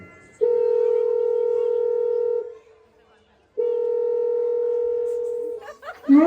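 A phone call goes out with two long, steady ringing tones separated by a pause, heard close and clear, before a voice briefly cuts in at the end.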